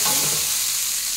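Julienned onions hitting hot oil in a pan, a loud, dense, hissing sizzle right up close that holds steady throughout the short stretch, no one speaking.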